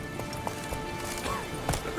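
Geralt's horse Roach from The Witcher 3 gallops with rapid, rhythmic hoofbeats throughout the short clip while a voice talks over them.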